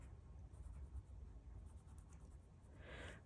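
A pencil draws lines on paper for a spiral knot border, a faint close scratching and rubbing that runs continuously with a slightly brighter stroke near the end.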